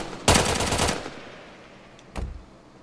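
Gunfire in Roblox Bigfoot: a loud, rapid automatic burst lasting under a second, then a single shorter shot trailing off, close and with no talk over it.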